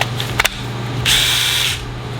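A cordless power drill spins freely in the air with no bit in wood, its steady whine holding for under a second after a couple of sharp clicks, close and fairly loud over outdoor background noise.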